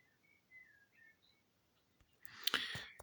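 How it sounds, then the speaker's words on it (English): A few faint, thin bird chirps scattered over quiet outdoor air, followed by a sharper, louder burst of noise near the end. "but the birds are out in force today, chirping away."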